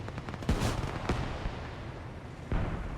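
Cannon shots ring out in a real-time strategy war game, three loud, sharp blasts spaced irregularly over a low rumbling battlefield background.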